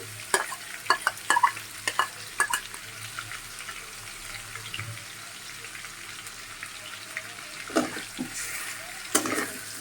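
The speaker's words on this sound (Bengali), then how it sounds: "মাংসটা আমার ভাজা হয়ে গেছে। এখন আমি বেটে রাখছিলাম পেঁয়াজ, মরিচ, রসুন, সেটা আমি দিয়ে দিলাম।" Fried chicken with freshly ground onion, chili and garlic paste sizzles quietly in a pan under a steady low hiss, while a utensil clacks and scrapes against the pan now and then.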